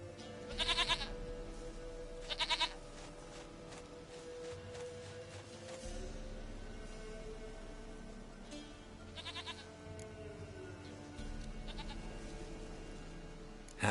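Goats bleat in The Witcher 3 game, with two loud, close cries near the start and another pair later, each a short wavering call over a steady low ambient game hum.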